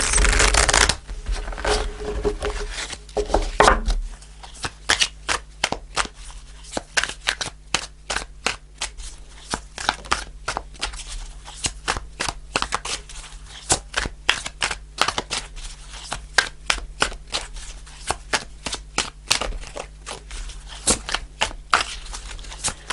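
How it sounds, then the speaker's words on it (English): Steady, crisp riffling and snapping of tarot cards being shuffled close up, repeated in quick bursts with no talking. "I'll do a couple more shuffles."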